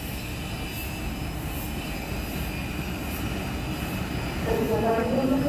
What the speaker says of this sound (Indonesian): ini masuk di jalur 2 kereta api Gaya Baru Malam Selatan dengan tujuan akhir stasiun Surabaya Gubeng